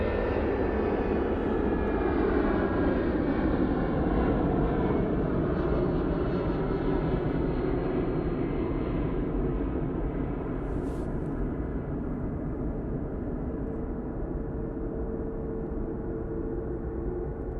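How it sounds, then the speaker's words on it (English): A Lufthansa airliner, a Starlux delivery, departs Manchester Airport for Frankfurt with a steady, loud jet-engine roar that holds throughout and eases slightly toward the end, with no voices. "Starlux delivery for Lufthansa going back to Frankfurt now."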